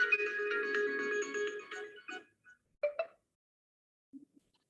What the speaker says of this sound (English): 1 second, phone.